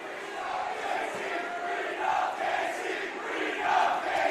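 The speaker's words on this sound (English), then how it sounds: "Deafening dueling chants here in the carousel room" Loud wrestling crowd in a packed room chanting back and forth in dueling rhythmic chants at a deathmatch between two women, a dense roar of voices swelling in waves throughout.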